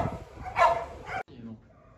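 A Doberman at a breeding kennel lets out a single short bark, close and sharp, followed by quieter yelps over a low background.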